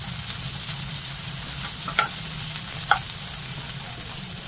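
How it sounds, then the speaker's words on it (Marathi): Onion, tomato, garlic and ginger sautéing in a pan for paneer dum biryani, giving a steady low frying sizzle with a couple of brief stirring scrapes, close and fairly loud. "आता टोमॅटो टाकते आणि लसूण आणि आलं पण टाकते, हे पण नरम होईपर्यंत, छान गुलाबी होईपर्यंत परतवून घ्यायचं असं"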